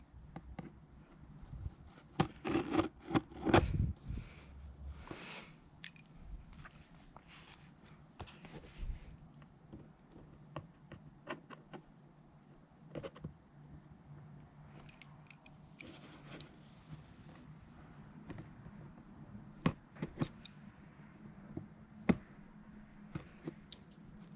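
Scissors snip through the packaging of an iPhone 12 box, a close run of small cutting clicks and crinkles at low volume with scattered sharper snips, no talking.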